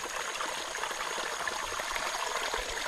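Steady rushing and splashing of water pouring into a small river or stream near a mini lake, continuous and fairly close, with no voices over it.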